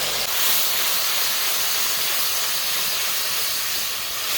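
Chili-soaking water splashed into hot oil tempered with dried red chilies, nigella seeds, chili paste, turmeric and salt for a hilsa fish curry, giving a loud, steady sizzle and hiss that runs unbroken throughout with no talking.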